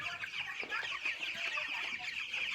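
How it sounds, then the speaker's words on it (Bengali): A flock of broiler chickens, sixteen days old, fills a poultry farm shed with continuous overlapping clucks and chirps, a busy, steady chatter of many birds heard close up. "আপনাদের দেখাচ্ছি মুরগি চাষ কিভাবে করে"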